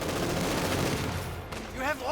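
MP40 submachine guns fire in the World War II strategy game Company of Heroes 2. Dense, rapid crackling gunfire fills the short moment, and a voice comes in at the very end.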